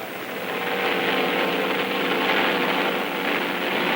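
An aircraft engine on a carrier deck roars as it revs up for takeoff, a broad, steady, rushing drone that swells slightly early on and then holds, with no voices.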